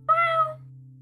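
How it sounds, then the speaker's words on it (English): A cat gives a single clear meow indoors, close and fairly loud, lasting about half a second over a steady low hum, with no talking. "Can you guys hear the cat?"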